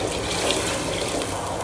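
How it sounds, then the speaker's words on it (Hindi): Water poured into a pot of browned chicken biryani, a steady close splashing, gushing pour with no pause across the short clip. "अब मैं पानी ऐड कर दूँगी।"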